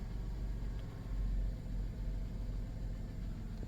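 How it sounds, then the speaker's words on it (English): The engine of a 1997 Dodge Grand Caravan SE, abandoned for over four years, idles after a hot start with a low, even rumble that stays fairly quiet. "Fires right up. That motor runs great."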